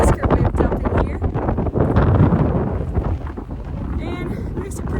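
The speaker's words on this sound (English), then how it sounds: "I don't even know if you'll be able to hear me over the wind right now." Strong wind buffets the microphone on an exposed hiking trail in loud, rough gusts, while a person talks through it.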